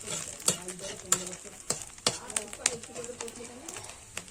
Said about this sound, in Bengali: এবার শুটকি মাছগুলোকে ভালো করে ভেজে নিচ্ছি